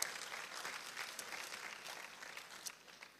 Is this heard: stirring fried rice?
no